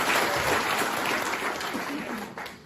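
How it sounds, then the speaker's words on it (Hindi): Audience applause for a speaker, a dense steady wash of clapping filling the room, loud and continuous before easing slightly near the end. "ताली बजाओ प्रभु सर की।"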